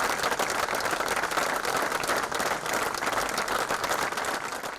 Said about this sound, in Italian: Un applauso accompagna il feretro di Lorenzo Toffolini